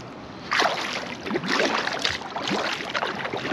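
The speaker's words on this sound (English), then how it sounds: "officially paddling on my home turf right now" A kayak being paddled on water, rhythmic dipping strokes and splashy swishes repeating roughly every half second, close by over a faint background hiss, with no talk.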